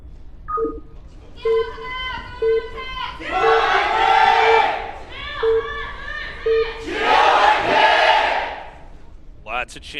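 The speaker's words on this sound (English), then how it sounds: "Lots of cheering here for the Jin Air Green Wings." An arena crowd at an esports playoff final between SKT and Jin Air Green Wings roars in two loud swelling waves of cheering, separated by rhythmic chanting bursts, close and full over tonal beeps.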